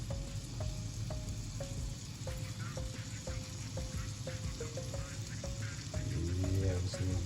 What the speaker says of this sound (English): I want y'all to hear the sizzle that is starting